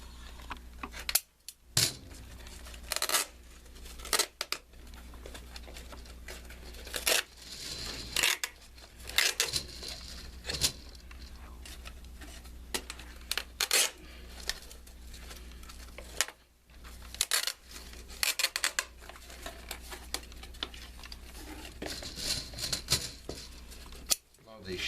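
Shears snip the lead wire of a Rockford T1 T2 subwoofer recone and recoil kit, a busy run of small metallic clicks and cuts at close range, with light handling noise throughout.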